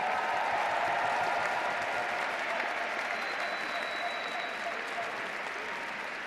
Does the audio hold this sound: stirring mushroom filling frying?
no